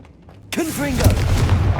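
A Confringo fire spell is cast in the video game Hogwarts Legacy, sounding as a sudden booming blast that follows a shouted spell voice and then rumbles on loudly.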